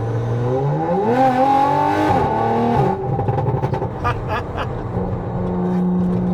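A loud Audi RS4 Avant engine revs up and settles with a rising and falling roar and deep burbling, heard close and steady throughout.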